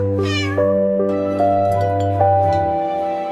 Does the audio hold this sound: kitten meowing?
yes